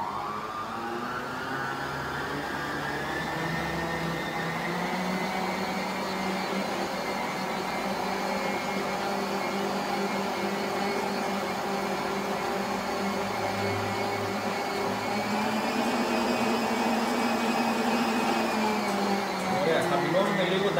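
An electric mixer whirs steadily and continuously while beating vasilopita cake batter with whole eggs added, a constant motor drone with slight pitch shifts throughout.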